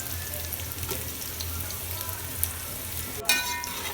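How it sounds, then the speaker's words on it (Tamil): Onions fry in oil with a steady, low crackling sizzle throughout, broken by a couple of brief clinks near the end. "எல்லாத்தையும் நல்லா வதக்கி விட்டுக்கோங்க"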